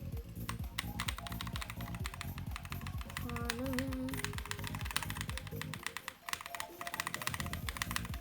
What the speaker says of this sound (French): vous pouvez entendre mon clavier